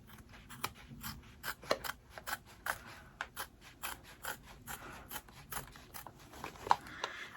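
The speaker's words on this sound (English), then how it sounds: "I'm going to get different applique scissors because those are dull." Applique scissors snip fabric along the original stitch line of a zipper bag, giving a quiet, close series of short crisp cuts in an uneven rhythm with no talk.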